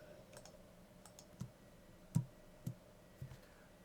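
A computer mouse clicks four times, sharp and faint, spaced irregularly over a quiet room tone while editing on a computer.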